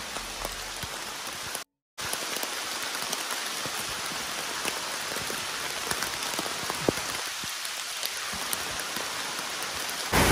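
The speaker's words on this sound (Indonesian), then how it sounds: "tim harus menerobos hujan di trek turunan" Heavy rain pours steadily on a descending mountain trail on Mount Leuser, a dense broadband hiss with scattered sharper drops landing close by; no voices, with one brief dropout early on.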